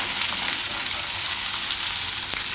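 Onion and carrot sizzle in hot oil in a pan while curd upma is being cooked: a steady, close, even frying hiss throughout, with no voices.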